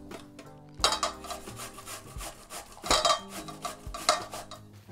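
Zucchini and potato are rubbed down a coarse metal grater in rhythmic scraping strokes, with repeated rasping bursts and light clinks of the grater, close up and without speech.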